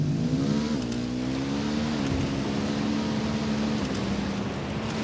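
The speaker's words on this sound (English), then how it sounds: "I'm hearing engine noise." A vehicle engine in the video game Ghost Recon Wildlands drones loud and steady throughout, its pitch rising slightly and then holding under continuous rumbling road noise.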